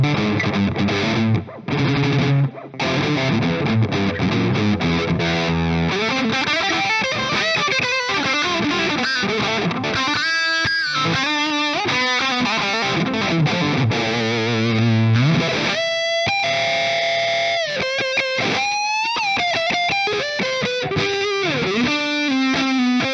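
A Shark Burn Custom Classic Drive overdrive pedal shapes an electric guitar into a loud, saturated distorted tone, with chords and single-note riffs played alone and a few brief pauses.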